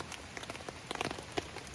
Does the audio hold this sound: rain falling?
yes